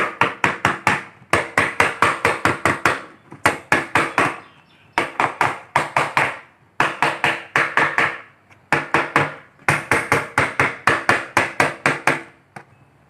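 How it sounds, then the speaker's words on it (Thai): Sharp hammer blows tap a bucket lid shut in quick rhythmic bursts of several taps each, separated by short pauses, loud and close. "ก็เอาค้อนตอกเพื่อให้มันสนิทนะครับ"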